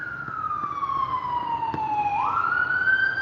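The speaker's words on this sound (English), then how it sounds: "Oh, it's an ambulance." An ambulance siren wails nearby in a long falling sweep, then swings back upward, loud and continuous over faint road noise, with no speech.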